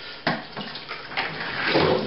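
Homebrewed golden ale wort pouring into a fermenter, a steady splashing liquid stream with a few gulping surges, close and moderately loud.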